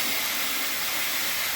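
Water poured into a hot pan of spiced potatoes and pointed gourd for a rohu fish curry, producing a loud, continuous, close sizzling hiss throughout.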